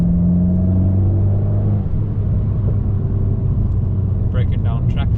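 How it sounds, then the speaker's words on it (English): An Abarth car overtakes on an English farm road, giving a loud, steady low engine rumble from inside the cabin, and a voice speaks briefly near the end. "Little overtake here."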